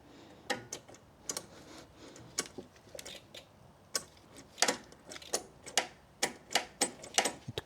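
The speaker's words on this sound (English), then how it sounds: "it might be clicking, even the starter might be clicking, but it won't turn over" Starter of a Toro Z Master zero-turn mower clicking without turning over, a string of sharp, separate clicks in an irregular rhythm, close and fairly loud with nothing else around them.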